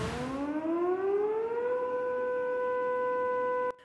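An air raid siren sounds during an alert in occupied Sevastopol, a single wail rising steeply in pitch and then holding a steady, loud tone before cutting off abruptly near the end.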